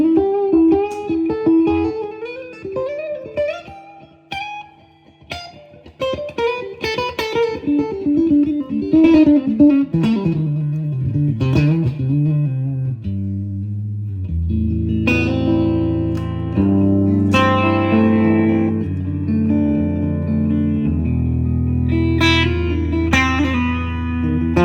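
Custom shop Fender Telecaster electric guitar plugged straight into the front input of a Fender Super Reverb amp, with picked single notes and runs that give way to sustained, loud strummed chords ringing with reverb, played alone without voices.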